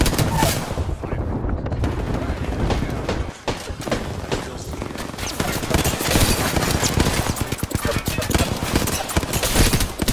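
Rapid video-game gunfire in a chaotic multiplayer match at Hammond Labs, loud continuous bursts and clattering shots dense across the whole stretch, with a brief lull early on.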